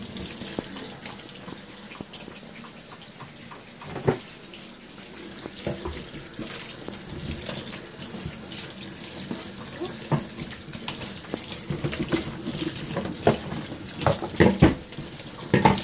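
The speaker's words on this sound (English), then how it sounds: "Wash all in your fingernails, Germany." Tap water runs steadily into a kitchen sink while hands are washed, with splashing and clatter rising and falling close by, and voices talking faintly underneath.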